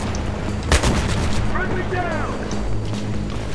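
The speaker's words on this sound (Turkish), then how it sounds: "Dost tank ateşi." Friendly tank fire in the war game Battlefield 3: a sharp, loud cannon blast stands out over continuous battlefield noise and radio-style voices, followed by further distant booms.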